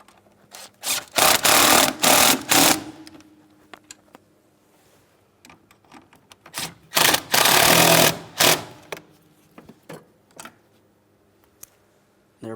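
Brake master cylinder mounting nuts on a 2008-2016 Chrysler Town & Country are snugged with a ratchet: two loud, close bursts of rapid clicking, separated by quieter pauses with faint tool handling.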